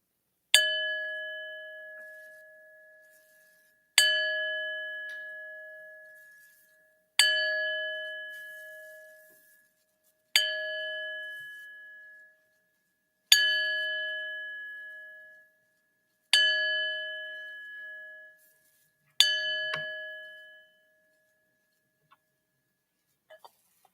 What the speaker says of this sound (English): I'll ring our bell 7 times in honor of our 7 Unitarian Universalist principles.